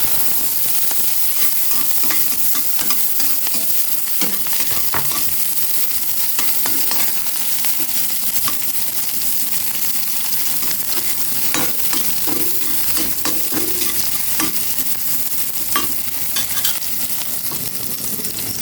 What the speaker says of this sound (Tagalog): Igisa ko na.